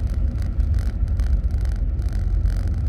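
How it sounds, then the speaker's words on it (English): A Jeep Grand Cherokee WJ fitted with a Flowmaster 40 series exhaust drives along, giving a steady, deep, mellow low rumble mixed with road and wind noise, continuous and fairly loud with no talking. "you can kind of hear the exhaust a little better."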